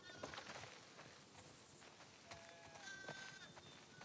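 Sheep bleating in The Last of Us Part II, several short wavering bleats at moderate distance over a faint outdoor farm ambience, with soft footsteps.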